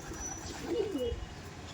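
Pigeon cooing in short, soft low phrases around the middle of the moment, fairly close but quiet over faint background noise.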